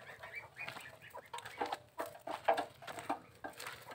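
Farmyard chickens and a rooster cluck in short, irregular bursts at close range, with a patter of movement and scratching beneath the calls and no voices.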